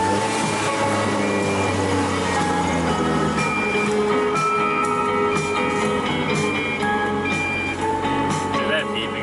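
A Mazda Miata with a turbo setup sounds a constant, repeating airbag warning beep inside the car, loud and close, steady tones running on over engine hum.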